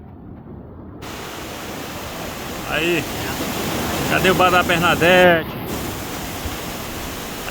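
Steady rain pours down in Ceará, a broad continuous hiss through the whole stretch, with someone talking over it partway through.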